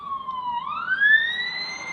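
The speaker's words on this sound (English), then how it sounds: "Ignore the sirens, please." A wailing emergency vehicle siren on a busy road sweeps downward, then rises again and holds a high steady tone, fairly close, with faint road noise underneath.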